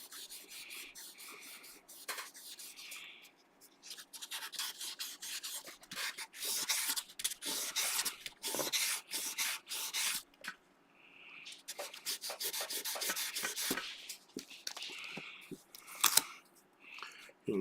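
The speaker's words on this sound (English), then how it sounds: "I don't know if I sanded it or not" Guitar frets on a Drifter guitar being sanded by hand, a close scratchy rubbing in repeated strokes that start and stop with short pauses between passes.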